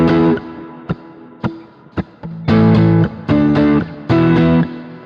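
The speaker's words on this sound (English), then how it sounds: "It's kind of like a tube screamer, so like a somewhat of a mid-boost type of distortion or overdrive" Electric guitar played through a Tuber overdrive pedal, a mid-boosted tube-screamer-style distortion, gives loud sustained chords and single struck notes separated by brief pauses, with a thick, gritty tone.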